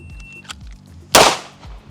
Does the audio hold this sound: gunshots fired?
yes